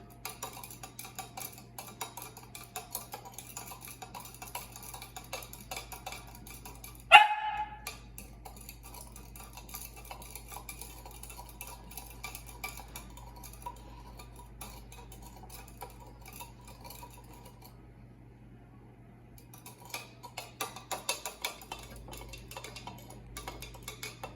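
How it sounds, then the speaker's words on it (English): A spoon stirs sugar into sweet tea in a glass, giving light, repeated ticking clinks against the glass at an even pace, with one louder knock partway through and no talking. "You use a spoon or a wooden spoon or anything that you have really to be able to just stir it right here."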